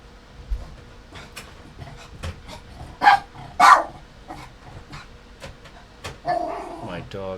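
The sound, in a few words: dog barking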